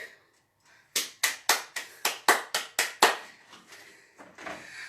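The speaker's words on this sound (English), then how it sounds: "I'm clapping for y'all." A single person claps on an outdoor morning walk, about eight sharp, evenly spaced claps up close, then lighter scattered sounds trailing off.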